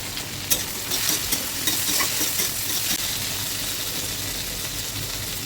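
Ginger-garlic paste fries in a pan, a close, steady hiss and sizzle with a few sharp utensil knocks and scraping stirs near the start, no voices.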